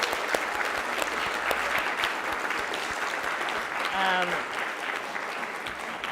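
Audience applause closing a talk on women, hip hop and disaster culture, a steady round of clapping from a seated crowd with a brief voice heard near the end.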